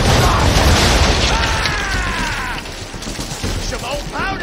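Ship cannons firing in Assassin's Creed III, a heavy rolling volley of booming blasts with crackling debris and rumble, loud and dense throughout, with shouted voices mixed in.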